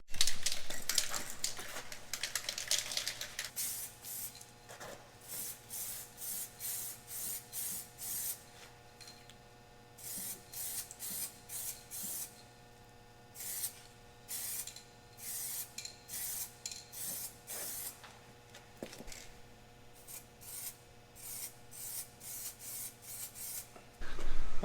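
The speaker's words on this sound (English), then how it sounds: "let's do the second coat" Short bursts of spray paint hiss in a repeated on-off rhythm, close and clear, as a second coat goes onto a Jeep TJ door, with brief pauses between passes.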